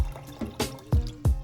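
Water splashes and trickles into a pot of Jamaican hominy corn porridge, with a few distinct plops and gurgles in short bursts, heard close up with no talking.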